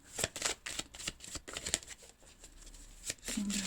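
Tarot cards shuffled before a draw, a quick run of crisp, close riffling flutters and slaps, faint and alone.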